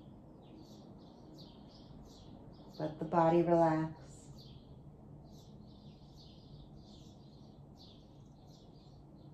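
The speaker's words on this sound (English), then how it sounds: "hear the birds chirping." Soft bird chirps repeat steadily in the background, faint and high, while a calm voice speaks briefly in the middle.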